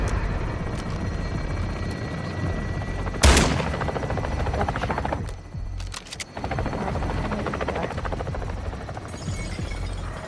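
Gunfire in Call of Duty over a constant loud helicopter-like rotor drone, with a sharp loud shot burst near three seconds and a couple of further cracks around six seconds.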